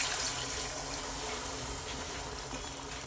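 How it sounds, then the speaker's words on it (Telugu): Water is poured into a pan of prawn curry, giving a brief steady rushing splash that holds at an even level for a few seconds with no talk. "కొంచెం వాటర్ పోసుకుందాం."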